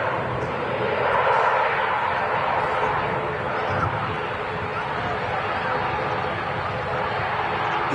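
Jet engines of a TUI airliner lining up on runway 23 right at Manchester Airport, a steady broadband roar heard from a distance, with people talking nearby throughout.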